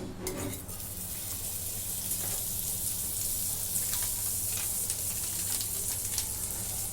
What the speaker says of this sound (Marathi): आता मी पाव भाजून घेते